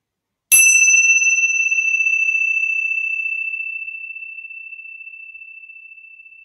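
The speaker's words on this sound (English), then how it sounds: "I'm going to ring the bell just once" A single bell strike rings out clearly with a bright sustained tone, then decays slowly over several seconds toward silence, alone with no other sounds.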